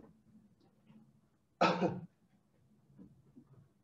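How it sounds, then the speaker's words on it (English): One short, fairly loud cough from a person with a spinal cord injury breaks through quiet background sounds. "I'm going to ask you to cough"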